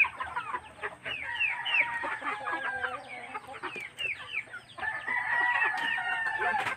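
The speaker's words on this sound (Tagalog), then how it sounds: "Mga manok natin" Chickens clucking and calling in a yard, a busy overlapping chorus of clucks with rooster-like calls, near and continuous with no talk.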